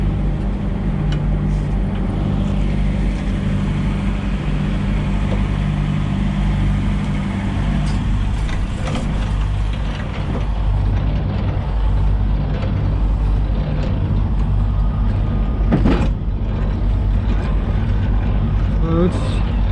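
A semi truck's diesel engine idles steadily in a yard on a frigid, calm winter morning around 3 degrees, a deep continuous rumble running close and loud throughout, with occasional hiss and clatter on top.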